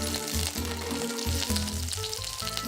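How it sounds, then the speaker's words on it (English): Zucchini slices fry in olive oil in a pan, a steady close sizzle holding evenly throughout, with a faint harmonic hum running underneath. "heat a pan and add the olive oil. Add the zucchini. When they are browned, flip the slices over."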